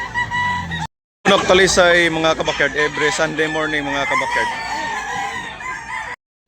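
Roosters crow loudly and repeatedly at a Sunday-morning chicken sale in Tabunok, Talisay, their long calls overlapping with clucking while someone talks over them.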